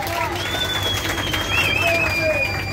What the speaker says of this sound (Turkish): Buranın alkışını alabilir miyiz?